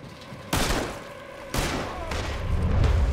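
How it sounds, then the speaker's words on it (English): Red Dead Redemption 2 mission shootout with two heavy gunshot bursts, each with a sharp attack and a booming tail that rings on, followed by rising rumbling fire. No talk. "Looks like we're shooting our way out of here, fellas."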